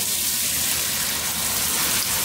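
Water pours steadily into a pot of curry salmon with potato, a continuous close splashing gush with no voices.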